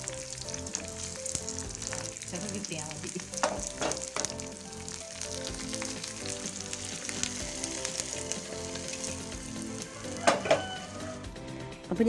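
Jackfruit mash with roasted coconut being stirred in a hot pan gives a soft continuous sizzle, broken by a few scraping strokes of the spoon and brief louder clinks near the end.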